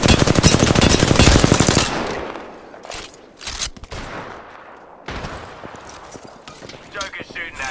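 Rapid automatic gunfire in Apex Legends rattles loud and close for about two seconds, then scattered shots and game sounds follow, with a voice talking over the action.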